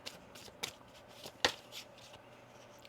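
Tarot deck being shuffled by hand, a few soft riffling bursts and card snaps spread across a quiet room, the loudest crisp flutter near the middle.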